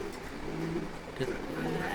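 Farm pigeons give soft, low cooing calls, faint and close by against quiet background murmur over a couple of seconds.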